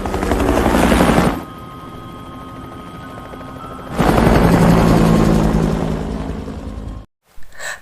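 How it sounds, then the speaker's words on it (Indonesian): Helicopter engine and rotor roar loudly in two broad bursts separated by a lower steady drone, as the aircraft lifts off and flies in a zombie-apocalypse story scene, ending in a short silence and a few faint thumps. "Lin berhasil menerbangkan helikopter itu."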